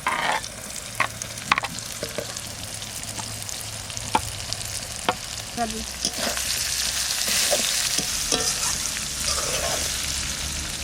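Thin strips of raw mango and carrot frying in oil in a pan, with a steady close sizzle throughout and intermittent scrapes and clinks of stirring, no voices.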